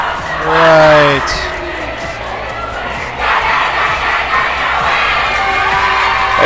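Loud, raucous crowd in a packed high school gym at a girls' basketball game, steady roaring and shouting that swells after a brief horn-like tone at the start.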